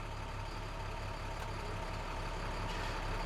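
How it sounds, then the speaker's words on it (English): A Class B truck during a pre-trip brake test, its engine rumbling low and steady as it rolls at walking pace, with a faint hiss of brakes near the end and no voices. "drive 5 miles per hour, hit the service brake to make sure the truck stops"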